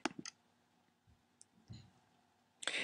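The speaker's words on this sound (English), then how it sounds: "we're going to click on the link for support." Quiet computer mouse clicks select a support link on a software website's navigation banner, a few sharp isolated clicks with soft handling noise between them, close and faint.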